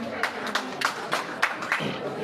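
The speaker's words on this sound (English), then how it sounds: "We clap for him." Sparse audience clapping for a judge at a school debate between ES Rusumo and GS Paysannat, scattered uneven claps at moderate volume with a voice talking over them.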